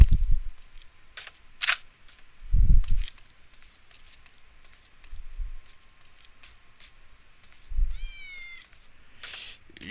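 Cat meowing inside the video game Postal 2 Paradise Lost, a few short separate meows spread over the stretch with gaps between them, alongside soft game clicks and a rising chirpy effect near the end.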